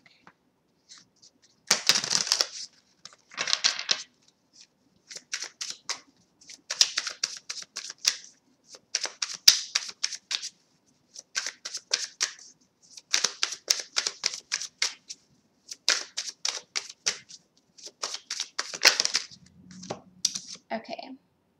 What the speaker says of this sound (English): And I want to get another card from this deck.